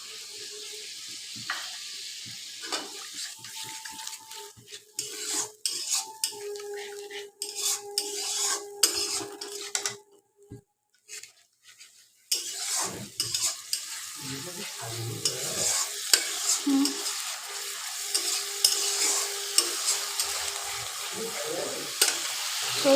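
Pabda fish curry in progress: mustard paste fried in hot oil that has separated from a tomato paste base, giving a steady sizzle with spoon scraping and pan clinks, briefly pausing midway before resuming.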